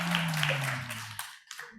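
Church congregation clapping during a Friday prayer meeting at a Sydney church, a brief burst of hands fading out, following speech and ending with scattered claps.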